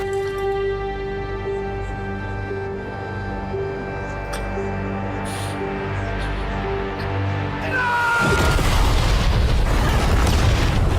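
A grenade explosion in an action scene from the heist drama Money Heist: a steady droning musical bed runs until a sudden loud blast breaks in and leaves a broad, roaring rumble to the end.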